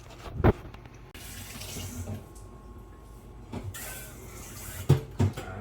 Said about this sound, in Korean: 숙주나물을 데쳐서 이제 물기를 쭉 빼는 작업이에요